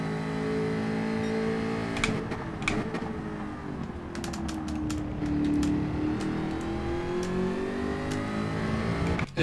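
A McLaren Group 4 race car in Gran Turismo 7 at Kyoto Yamagiwa Reverse, its engine droning steadily with rising and falling pitch, punctuated by sharp clicks and knocks as it rides over kerbs.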